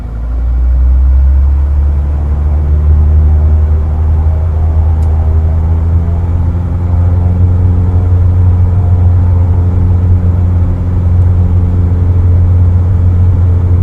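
A Diamond DA40 light aircraft engine in a flight simulator runs up for takeoff on the wheel brakes, a loud, steady, droning propeller rumble that holds constant throughout with a faint rising harmonic whine.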